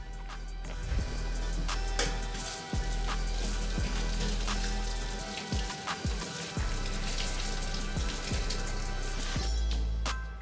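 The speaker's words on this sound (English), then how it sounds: "Let's go ahead and go to the sink, rinse everything, and let it dry." Tap water runs steadily into a sink while sneakers are rinsed, a loud continuous splashing hiss with occasional low thumps and shifts as the shoes move under the stream, close by and without speech.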